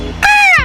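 A crow in the Shinchan cartoon gives a single loud, harsh caw lasting about a third of a second, with no other sound around it.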